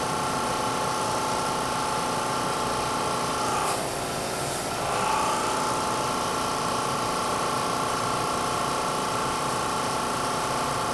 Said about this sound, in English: I heard the motor change.